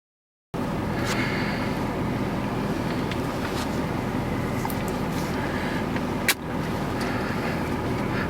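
A 2024 Chevrolet Silverado truck drives along the road with a steady, broadband rumble of engine and road noise heard from inside the cab. It holds constant throughout, with one brief thump partway through.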